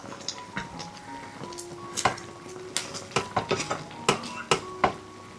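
A mango mixture is stirred in a pan as its sugar syrup thickens, giving repeated close scrapes and clinks of a spoon against the pan in an irregular rhythm with a faint background sizzle.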